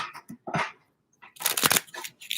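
Tarot cards are shuffled in quick riffling bursts with short gaps between, close by and crisp, ending in a longer rustling flurry.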